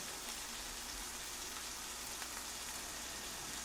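Steady rain falls in a Hindi cartoon, a continuous even hiss of drops with no break or change across the whole stretch.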